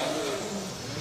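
A British Drift Championships drift car at Buxton roars loudly up close as its engine revs hard after a bump start, a dense, continuous rasping wail with no voices heard.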